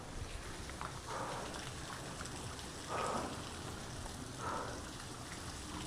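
Rain falling outdoors while someone shelters under a shade, heard as a steady, even hiss with soft gusts and slightly louder bursts, with no talk.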